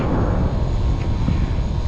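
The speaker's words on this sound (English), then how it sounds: "Those are the exhaust fans for that area." Four cone-shaped Greenheck rooftop exhaust fans running, a loud continuous low roar of rushing air and motor drone, steady and close, with no talk.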